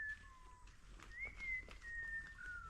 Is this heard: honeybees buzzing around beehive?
no